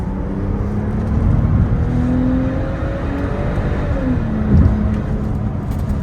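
A Saab 9-4X Aero SUV engine revs up and pulls through a gear change into second, with steady road rumble and a rising whine over about six seconds.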